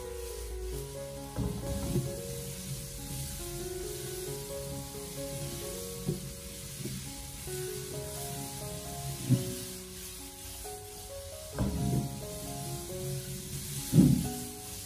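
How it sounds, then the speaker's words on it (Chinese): Blanched cucumber and carrot tossed in a wok over high heat, a soft continuous sizzle with scraping spatula strokes and a few sharper clanks of metal against the pan, no talking. "接着再把焯过水的黄瓜还有胡萝卜放进来，然后再调为大火，将它快速的翻炒一下"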